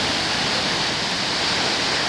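Akaka Falls in Hawaii roars as a steady, dense wash of falling water, a constant broadband rush that stays even and unbroken throughout.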